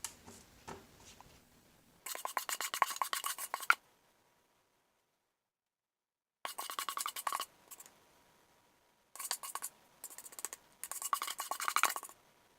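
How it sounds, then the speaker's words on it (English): A spatula scrapes a bowl of sweet potato mix in repeated short bursts of rough, scratchy strokes, separated by silent pauses; close and fairly quiet, with no talking. "Then I take a spatula and scrape the bowl"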